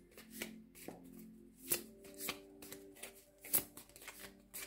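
Oracle cards shuffled by hand, a run of soft, crisp flicks and riffles at an uneven pace, quiet and close, with no talking.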